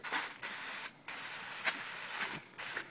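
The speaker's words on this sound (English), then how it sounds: "spray a little bit more Mr. Brake Clean in there" An aerosol can of brake cleaner sprays into a 2008-2015 Polaris Sportsman 500 wheel bearing area in several loud hissing bursts, broken by brief pauses, close to the microphone.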